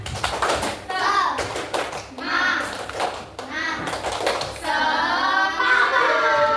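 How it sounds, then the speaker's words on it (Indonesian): Children in a classroom clap out the rhythmic spirit clap in quick patterned bursts of hand claps with a pause between groups, chanting along loudly and close, voices filling the gaps. "Ulang lagi ya, tepuk semangat"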